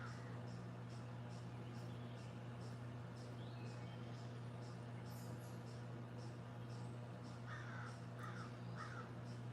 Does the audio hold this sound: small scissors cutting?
no